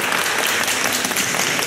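Steady applause from a live audience fills the room as a mystery guest, the young man Xiong Zai, is welcomed on stage; dense continuous clapping, loud and even throughout, with no voices above it.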